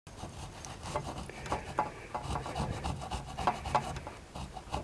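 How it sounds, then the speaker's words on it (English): A handsaw cuts through wood for a lever bow build, pushed the wrong way so it rasps and scrapes unevenly in irregular close strokes rather than a clean rhythmic cut. "So I'm actually using I'm pushing the saw the wrong way."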